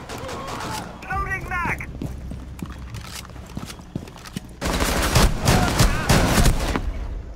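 Gunfire bursts from a Rainbow Six Siege match crackle in uneven volleys, becoming dense and sustained near the end, with someone talking excitedly over parts of it.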